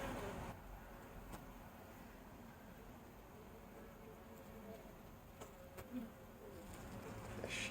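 A soft, continuous buzzing of honeybees at an open hive drones quietly in the background, with occasional faint clicks and rustles.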